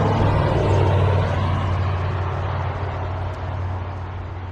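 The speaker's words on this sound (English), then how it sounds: "Why are some cars so noisy?" Traffic rolls past on a road, a broad, loud rumbling roar with heavy low engine drone that stays continuous and slowly fades slightly over a few seconds.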